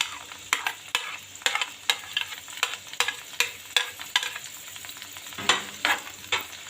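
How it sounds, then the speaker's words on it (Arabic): Blended tomatoes and onion fry in oil while a utensil stirs them in a pan, giving a steady sizzle broken by a regular series of sharp scraping strokes, close and fairly quiet. "بنقلب كده اهو،"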